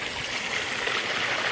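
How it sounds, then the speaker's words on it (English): Water from an outdoor sump pump drain runs over a cement seawall toward a river during a February thaw in Michigan, making a steady, continuous rushing trickle like a small stream at close range with no talk. "Then we lift the water up and over this cement seawall, and then the water just ends up out in the river."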